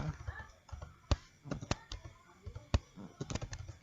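Computer keyboard keys are pressed in quick, irregular clusters of sharp clicks, close and fairly quiet, with a soft voice faintly in the background.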